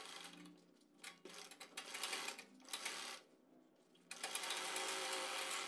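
A sewing machine stitches a sleeve in bursts, its whirring run pausing and restarting, then running steadily near the end; close and fairly quiet.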